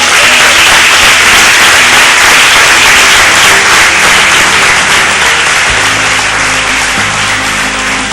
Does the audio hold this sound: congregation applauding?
yes